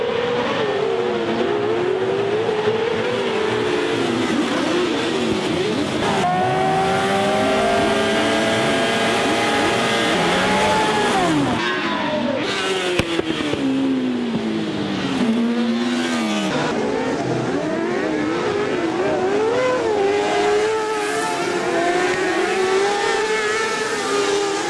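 Racing cars of about 120 horsepower weighing around 300 kg lapping a circuit, engines screaming and shifting pitch steadily as they rev and pass, loud and continuous.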